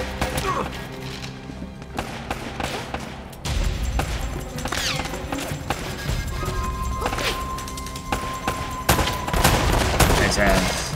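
Gunfire in Uncharted: Drake's Fortune, with repeated loud shots and crashing impacts in a dense, busy mix throughout a firefight, with a player talking now and then over the action.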